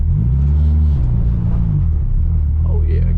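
A Ford Freestyle with a CVT accelerates, its steady engine drone rising as the tires give a brief chirp near the end, with voices in the car over the noise.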